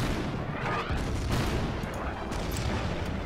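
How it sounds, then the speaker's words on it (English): Artillery barrage in the wartime strategy game Order of Battle: Endsieg, a dense roll of booms and blasts rumbling continuously and loudly throughout, with faint talk mixed underneath. "So we have some artillery on them first."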